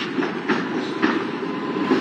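Electric tram running through Odesa, its wheels giving a steady rolling rumble with rhythmic clickety-clack beats over rail joints at close range, with no voices.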